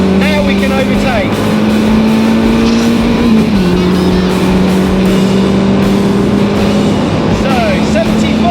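A race car runs flat out around the Castle Combe circuit with a loud, steady engine drone that dips briefly as the gears shift, heard from on board with some voice underneath.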